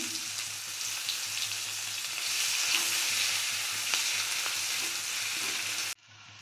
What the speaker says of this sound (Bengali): আমি আরেকটু তেল দিয়েছি, দুটো শুকনো লঙ্কা ছিঁড়ে দিলাম, আর একটু পেঁয়াজ দিলাম ফোড়নে